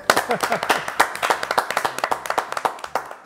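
A small group claps for musicians on a radio show, with distinct individual hand claps in a quick, uneven patter that stays moderately loud, and a voice speaks briefly at the start.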